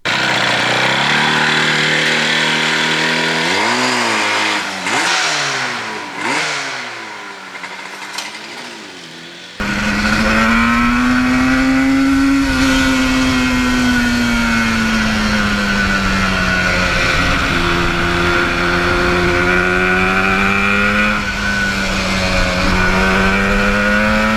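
A restored 1977 Yamaha RD400 motorcycle out on the open road, its two-stroke engine revving up and down through gears, then holding a loud, steady drone at cruising speed, close and alone.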